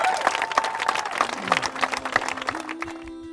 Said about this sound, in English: I want you to give yourself a big round of applause.